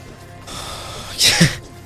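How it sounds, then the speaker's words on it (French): One sharp sneeze bursts out over a quiet background hum: a short hissing intake and then an explosive release. "J'ai éternué."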